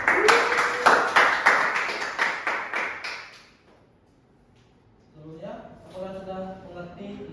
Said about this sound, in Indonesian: Berikan tepuk tangan untuk diri kalian sendiri ya.